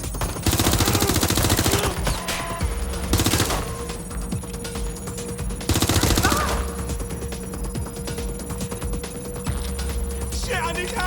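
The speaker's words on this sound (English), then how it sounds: "I'm taking fire!" Gunfire rings out in the Watch Dogs Legion video game, loud bursts of shots arriving in clusters over a dense, busy battle soundscape, with voices shouting over it.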